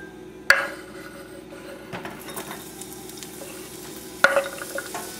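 Garlic and mushrooms fry gently in a pan with a low continuous sizzle, broken by two sharp metallic clanks of a utensil against the pan and a few softer stirring scrapes, with no talking.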